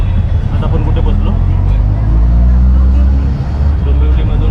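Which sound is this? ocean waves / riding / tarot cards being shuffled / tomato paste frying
riding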